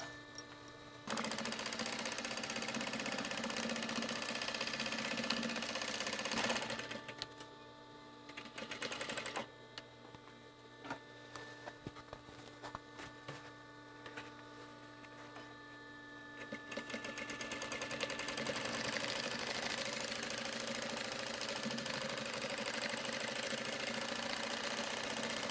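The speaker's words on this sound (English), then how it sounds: "I'm like sewing it together, and then I'm drawing on it a little bit with the machine" A sewing machine stitches fabric pieces together in a steady, close mechanical whir that runs for a long stretch, dips quieter and choppier in the middle, then picks back up to a full continuous run.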